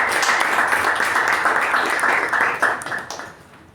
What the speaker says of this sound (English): Let us give a thorough round of applause to Toastmaster Sindhushri and the editorial team.